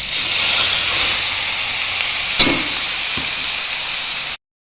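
Marinated soybeans sizzling in hot oil with black cumin seeds in a wok, a steady bright hiss that holds evenly for several seconds with a small clatter partway through, then cuts off.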